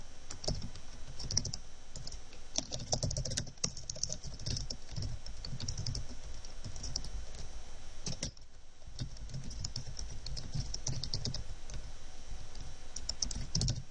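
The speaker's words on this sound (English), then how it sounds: "I'm going to type it in this time." Fingers type on a computer keyboard, a close, continuous patter of key clicks with only brief pauses throughout.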